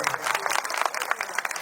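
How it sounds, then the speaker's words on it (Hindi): Crowd clapping at a rural political rally in India, a brisk, uneven patter of many hands at moderate volume sustained throughout. "अपने लिए जोरदार ताली बजा दो"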